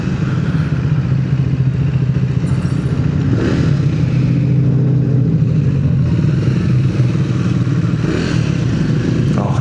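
A motorcycle engine while riding through traffic, heard close as a loud, steady low-pitched drone with wind rush and occasional clattering swells as the throttle shifts, lasting nearly ten seconds without talk.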